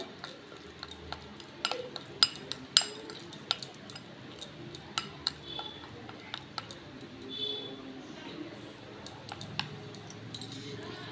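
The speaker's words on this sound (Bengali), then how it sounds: "এবার আমি এই সমস্ত কিছু উপকরণ মানে মিশাবো আর এই যে জলটা করে রেখেছি অল্প অল্প করে দেব" Homemade hair pack ingredients stirred with water in a bowl, with intermittent sharp clinks of a utensil against the bowl and soft scraping, close and at an irregular rhythm.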